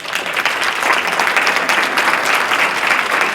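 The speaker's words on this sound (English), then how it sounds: "Please give a round of applause for my new legislative aide, Sam Jackson." Guests at a legislative team's reception in Annapolis break into steady, fairly loud applause that holds evenly and close by from start to finish.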